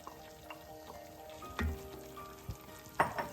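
Fenugreek leaves and peas fry in a hot pan with a steady low sizzle, broken by a few soft stirring scrapes and clinks.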